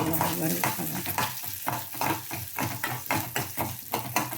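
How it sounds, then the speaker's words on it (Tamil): Dry moong dal being stirred and scraped in a hot pan, with quick repeated rattling strokes and a faint sizzle underneath. "இதுலேயே இந்த பாசி பருப்பையும் போட்டு வறுத்து வச்சிடலாம்."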